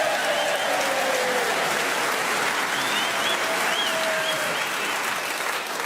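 A studio audience at a radio panel show recorded in Bridlington bursts into warm, sustained applause, a dense crackle of many hands that carries evenly throughout without letting up.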